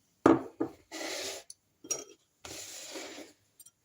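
Dry spiced croutons are tossed and stirred in a bowl, giving a few sharp knocks followed by rustling, rattling bursts of scraping, close and alone with short pauses between strokes.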